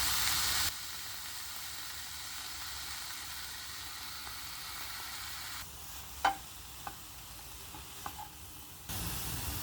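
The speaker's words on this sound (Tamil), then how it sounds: "அப்படி வதக்கிட்டு நம்ம புதினா கொத்தமல்லியும் ஆட் பண்ணிக்கலாம்" Mint and coriander leaves sauté in a pan with a soft, steady hiss at low level, a few brief utensil clinks and knocks in the middle, and no talking.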